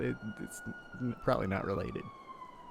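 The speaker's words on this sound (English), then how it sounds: "Siren" Police siren in GTA V during NoPixel roleplay, a faint steady wail sliding slowly downward behind a man's close, conversational talking.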